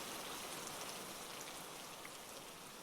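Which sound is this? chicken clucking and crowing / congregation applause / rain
rain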